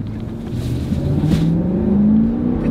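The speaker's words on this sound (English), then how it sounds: "That's got a big engine, so let's see how it takes off." A used SUV with a big engine pulls away from a stop, the engine note rising steadily in pitch as it accelerates, heard close and loud with no talking.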